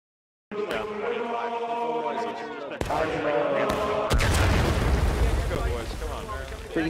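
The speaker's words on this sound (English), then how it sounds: "Don't stay in front of the cannon. Come on. Please, don't stay. We're gonna shoot again." At a river crossing event, a cannon fires with one heavy, booming blast that rolls into a broad rumble, following a shorter sharp crack and voices talking nearby.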